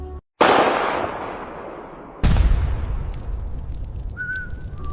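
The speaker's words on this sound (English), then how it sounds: "She pulls the trigger." Two sharp, booming gunshot blasts from a sniper rifle, each with a long decaying tail, the second heavier and deeper, loud and close with no talk.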